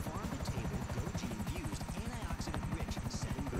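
A smoking, damaged helicopter in GTA Online gives a steady, loud rotor chop with rapid regular beats and a buzzing whine that runs throughout without a break.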